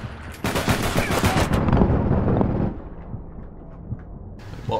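Rapid machine-gun bursts in the APB Reloaded video game, loud for about two seconds and then giving way to quieter background noise with a few faint pops.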